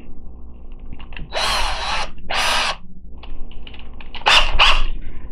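A small drill bit, swapped down from 9/64 to 1/16 inch, bores into the post of a Hot Wheels die-cast car. Three separate loud bursts of close, high-pitched whirring and grinding are heard, with quiet handling noises in the gaps between them.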